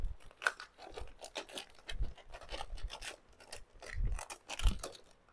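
Hands rub conditioned vinyl off a thrifted item, making close, uneven scratchy rubbing strokes in short bursts with soft thumps, no talking.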